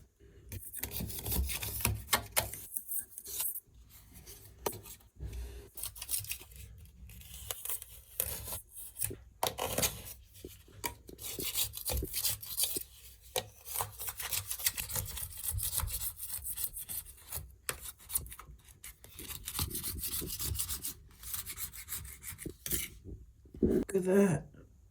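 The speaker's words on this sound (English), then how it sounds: "Get some of this silicone off." Old silicone sealant being scraped off a shower tray, repeated rough scraping and rubbing strokes in irregular bursts, close and moderately loud, with short pauses between passes.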